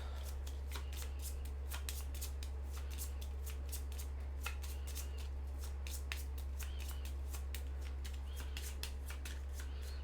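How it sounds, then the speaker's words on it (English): A deck of board game event cards being shuffled by hand up close, with a rapid run of crisp riffling flutters and slaps repeating for several seconds over a low steady hum. "Shuffle those together."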